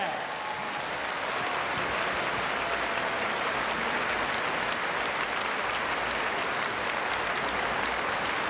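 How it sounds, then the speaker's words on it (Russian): Sustained audience applause at a live pop concert at the New Wave 2015 festival, a dense, steady wash of clapping from a large crowd lasting the whole stretch. "Еще, еще ваши аплодисменты, друзья,"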